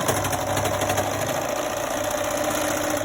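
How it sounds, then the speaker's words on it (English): A serger sewing machine stitches fabric pieces together with a fast, steady mechanical whir and rapid needle chatter, close and continuous throughout. "all you're doing is just kind of serging these together"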